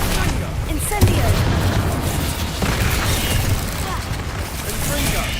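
Continuous rumbling blasts and bursts ring out as the Incendio fire spell is cast in the video game Hogwarts Legacy. The sound is dense and loud, with a sharp hit near the start, and game voices and combat noise run under it.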